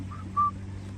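A person whistles two short tonal notes, the second louder and steadier, over a low steady background hum, with no talking.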